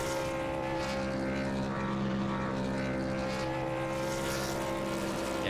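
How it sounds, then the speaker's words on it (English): A race truck engine at Phoenix Raceway roars steadily and loudly, its Goodyear tires burning rubber in victory donuts, with a sustained droning, whirring tone throughout and no talk. "as we listen to that beautiful engine and those Goodyear tires burn their rubber"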